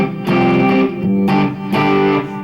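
Electric guitar with the guitar's volume knob about halfway, run through an amp with a little reverb: three loud, clear, ringing chord strums spaced about a second apart, each left to sustain before the next.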